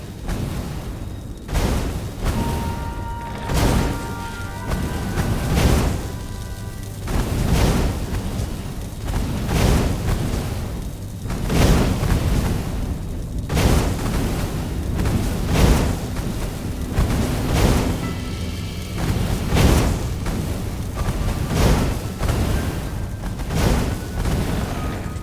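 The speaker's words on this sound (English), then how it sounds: "Who doesn't love being shot at by cannons?" Cannon trap in Stories: The Path of Destinies fires in repeated heavy booms at a fairly regular pace across the stretch, each thud punching through a quieter ambient and music backdrop.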